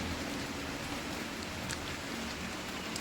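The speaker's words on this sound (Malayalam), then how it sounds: "മഴ പെയ്തുകൊണ്ടിരിക്കുകയാണ്" Steady rain falls and soaks a parked vehicle. The hiss stays broad and even for the whole stretch, with a few faint drip-like ticks and no voices.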